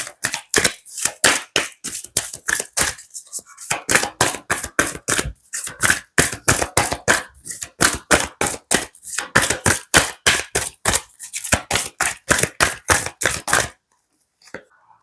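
Playing cards are handled and drawn one after another in a fast run of sharp snapping flicks and slaps, close and loud, with a short pause partway and a quiet stretch at the end.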